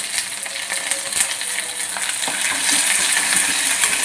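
Steady, loud crackling sizzle of shallots and curry leaves frying in hot oil, continuous throughout with no talking.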